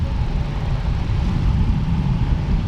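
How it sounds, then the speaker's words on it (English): A plane passes overhead near a waterfall, a steady low broadband roar holding at even loudness throughout with no voices. "I can hear a plane."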